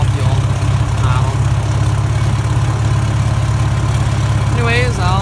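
A 1944 McCormick Deering O4 all-fuel orchard tractor engine idles with a steady low, throbbing rumble that stays even throughout, close and loud, with a few faint squeaky sounds near the end.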